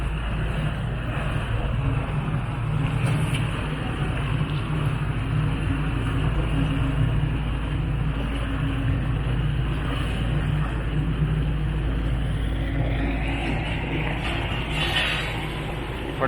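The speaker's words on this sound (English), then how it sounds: "You hear the engines rumbling." Engines of a Venice vaporetto water bus rumble at night as it sits at the Ca' d'Oro stop on the Grand Canal, a low, continuous drone with some wind and faint background activity.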